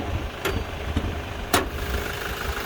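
A 2020 Toyota LandCruiser Prado GXL idling with the keys out, a steady low engine hum, with a few short sharp beeps or ticks rising above it.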